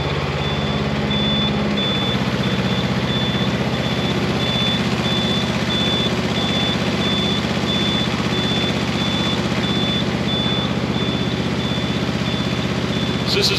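A CMC 75L compact tracked spider lift with a 75 ft reach starts up and settles into a steady, loud engine drone, while an alarm beeps repeatedly throughout.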